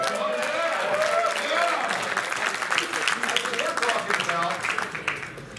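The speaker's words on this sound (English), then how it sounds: "let's give him a round of applause" An audience at a motivational speaking event breaks into sustained, loud clapping that holds steady for several seconds, with crowd voices mixed in.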